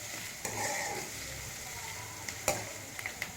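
Beans and carrot for veg fried rice are stir-fried in a pan with a steady close sizzle. Several sharp clicks from a utensil on the pan cut through, and no one speaks.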